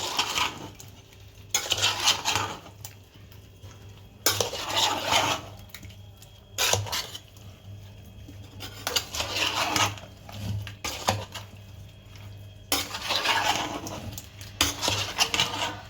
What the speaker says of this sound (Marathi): मिक्स करून घेते मी लोणचं